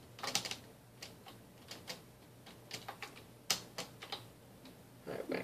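Computer keyboard keys are struck hard while playing Minecraft, a quiet string of sharp irregular clicks and clacks, some in quick bursts, with no speech.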